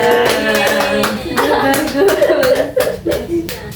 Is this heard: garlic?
no